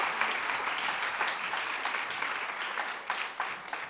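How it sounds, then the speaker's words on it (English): A seated audience applauds the new cohort of Emirati Women Achievers at the startAD 2024 ceremony: dense, steady clapping that fills all four seconds at an even level, with a few sharper claps standing out near the end and no voices. "Let's applaud them, please"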